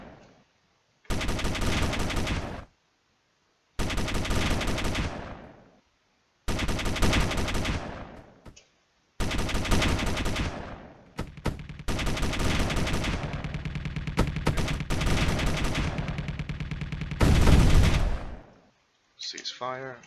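Warships exchange heavy gunfire in the space combat game Space Engineers, with long loud bursts of rapid automatic fire separated by short silent gaps, building into near-continuous barrages before a final blast and a brief voice at the end.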